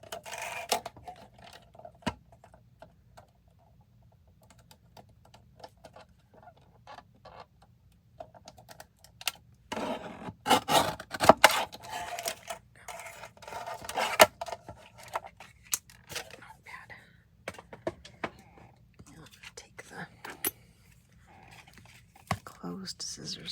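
Intermittent snips and rustles of scissors trimming paper for a sewing vignette box, with scattered clicks and quiet pauses between cuts.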